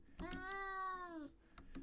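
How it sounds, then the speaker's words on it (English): A cat's meow sampled as a G note in a music track rings out once as a clear, harmonic tone of about a second. Soft percussive clicks sit around it. "this track is having this note, this G, with the sound of the cat"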